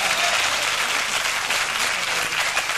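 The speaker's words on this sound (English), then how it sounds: "Go and applaud him, please, guys." A studio audience at a comedy show applauds a comedian, a dense, steady roar of clapping from many hands, loud and unbroken throughout, with no voices standing out.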